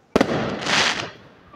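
Fireworks burst in a park at night, opening with two or three sharp close cracks and then a long crackling, hissing shower of sparks that fades slowly, with no talking.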